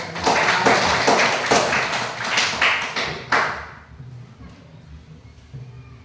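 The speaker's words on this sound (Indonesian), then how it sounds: "Kelompok 3 silakan tepuk tangan sudah menjawab." Classroom applause for a student group: a burst of many hands clapping, loud and dense for about three seconds before cutting off abruptly and leaving a quiet room with faint murmurs.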